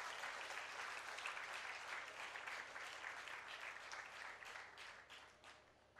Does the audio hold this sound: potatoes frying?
no